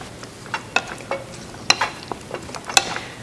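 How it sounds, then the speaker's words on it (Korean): Chicken pieces tossed with herb seasoning in a bowl, a series of soft, close, irregular clicks and light scraping taps with no talk. "그래서 이렇게 넉넉히 넣으셔서 한번 뒤적뒤적 해주시고요"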